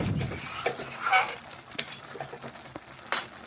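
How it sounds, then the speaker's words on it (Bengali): Cabbage cooking in its own water stirred in a pan, with clinking utensil scrapes and knocks against the pan over a soft background, several distinct taps spread across the clip. "একটু ভালোভাবে নাড়াচাড়া করে নিচ্ছি"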